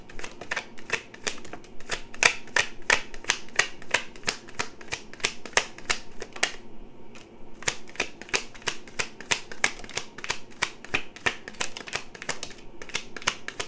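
Tarot cards riffle and snap in rapid, steady bursts, a close, crisp shuffling that runs on with only a brief pause midway.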